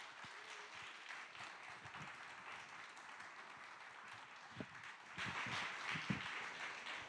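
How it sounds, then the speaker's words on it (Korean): A church congregation claps continuously in welcome, a dense patter of many hands that swells louder toward the end. "힘찬 격려의 박수, 환영의 박수 부탁드립니다"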